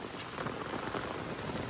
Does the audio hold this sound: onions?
no